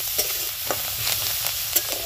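Salt being mixed into mashed boiled potato gives a continuous soft, squishy churning with small rhythmic knocks, close and fairly loud, without any voices.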